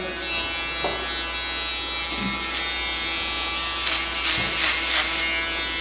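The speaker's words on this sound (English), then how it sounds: "A little bit of my shaver under there." Steady electric shaver buzz close by during a barber's bald fade haircut, running continuously with brief scraping bursts as it passes over skin.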